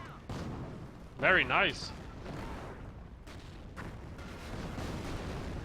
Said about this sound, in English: artillery goes down on the bunker